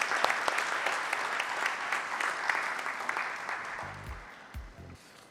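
Sustained audience applause welcoming a speaker at a banking summit conference, dense clapping from a large crowd that slowly tapers toward the end, with a few low thumps from handling a microphone as it fades.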